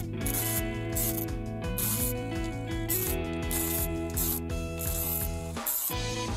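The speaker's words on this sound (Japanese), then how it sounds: "半分出したバネを巻き込んでいきます。" Winding the spring of a twin-tub washing machine timer during repair, a steady rapid ratcheting click with mechanical gear whir throughout, close and continuous.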